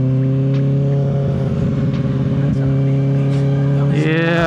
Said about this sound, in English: So I'm glad I got this M4 exhaust so people can hear me.